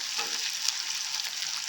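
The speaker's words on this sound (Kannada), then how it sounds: "ಈಗ ಆನಿಯನ್ ಫ್ರೈ ಆಗಿದೆ" Onions fry in a pan while cooking masala chitranna, a steady close hiss and crackle of sizzling oil with faint stirring, and no voices over it.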